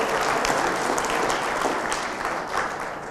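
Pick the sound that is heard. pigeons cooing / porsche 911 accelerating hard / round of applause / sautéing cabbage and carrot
round of applause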